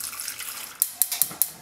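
Spring water is poured into a large pot holding artichokes: a soft, steady splashing stream at first, then brief sharper splashes at regular intervals in the second half, with no voices.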